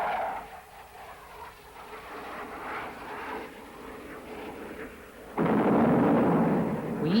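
Practice bombs dropped from SEPECAT Jaguar jets on a range, heard as a distant, muffled rumble that swells into a sudden loud, sustained roar of blast and jet noise near the end.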